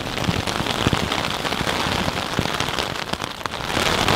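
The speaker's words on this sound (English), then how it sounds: "Started raining!" Rain falls steadily on a small two-person backpacking tent in the mountains, a dense close patter with scattered louder drops, no talking.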